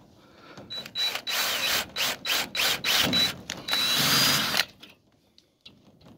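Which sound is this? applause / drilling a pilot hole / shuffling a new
drilling a pilot hole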